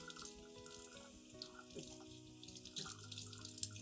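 A tap runs steadily into a sink as orchid roots are rinsed under the flow to wash away moss, dirt and decayed root fragments, a constant close splashing stream with no talk.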